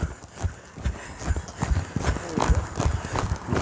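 Hooves of a working ranch horse clip-clopping at a steady gait as it follows a cow, close and fairly loud, with rhythmic thuds over outdoor ambience and light movement noise.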